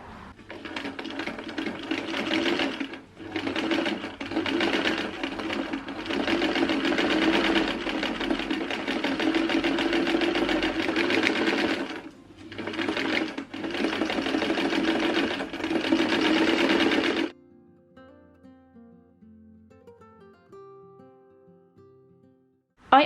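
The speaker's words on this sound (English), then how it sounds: "sew along here so that the seam allowance is attached to the lining" A sewing machine runs steadily as it stitches the seam allowance to the lining of a vest, broken by two short pauses. The stitching stops and soft music takes over at the end.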